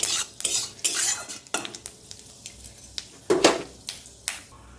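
A bay leaf, two dried red chillies and Bengali five-spice crackle in hot mustard oil for a pui shak ghonto tempering. Sharp pops and clinks burst out irregularly over a quieter sizzle.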